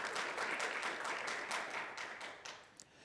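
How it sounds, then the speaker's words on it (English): Audience applause at an opioid settlements meeting, a steady patter of many hands clapping that fades out after a few seconds, heard alone and fairly faint. "Yes, please give Kristen a round of applause."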